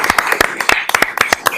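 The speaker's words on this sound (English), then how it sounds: "I do want to give them a better round of applause than that" A town meeting audience in Mint Hill gives a brief burst of applause, dense overlapping hand claps close and loud, with a faint voice in the background.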